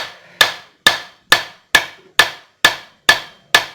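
Eight sharp metallic hammer taps land at a steady, even pace as an engine part is gently struck while being turned counterclockwise, each knock close and ringing briefly before the next.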